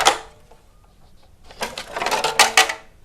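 Homemade machine automatically cutting pieces of tape for wire sculpture work: busy, rapid mechanical clattering and snipping in quick bursts, loud and close, with a short burst at the start and denser chattering toward the end.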